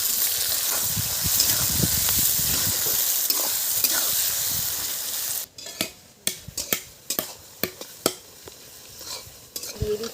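Onions dropped into hot oil already holding cinnamon, cloves, cardamom and peppercorns, for a Bengali country-chicken curry; a steady sizzle becomes a sharp crackling burst, then stirring and spoon clinks sound over continuing frying.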